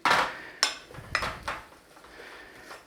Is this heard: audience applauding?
no